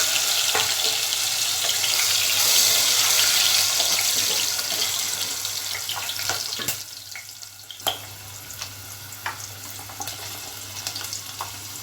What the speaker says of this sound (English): So first I am frying these potatoes.